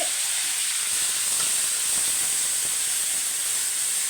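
Ground paste of pepper, cumin, tomato and garlic frying in sesame oil for crab masala, giving a steady, close hiss and sizzle that holds evenly throughout, with no voices.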